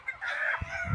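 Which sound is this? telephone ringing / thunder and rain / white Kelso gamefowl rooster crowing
white Kelso gamefowl rooster crowing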